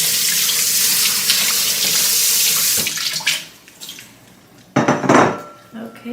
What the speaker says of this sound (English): I'm rinsing the bowl and giving it a quick wash.